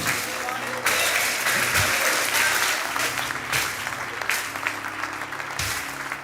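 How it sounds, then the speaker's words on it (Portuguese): Congregation in a church service applauds in praise, a thick, steady wall of clapping lasting several seconds, with faint voices and low music beneath it. "Então aplaude e glorifica ao Senhor."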